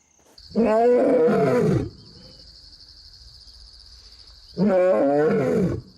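A lion on the Naboisho plains lets out two deep, powerful roars a few seconds apart, loud and close, while insects chirp steadily in the quiet between.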